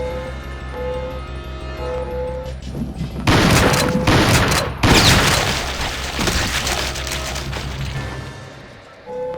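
Shotgun blasts in Aliens: Eradication, a Doom 2 total-conversion mod: loud, punchy shots erupt in a cluster over a steady electronic game hum and tones, then fade to the droning background.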